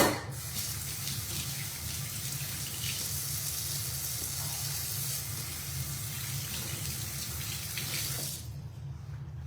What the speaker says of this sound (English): my hands are grody, so let me wash them off real quick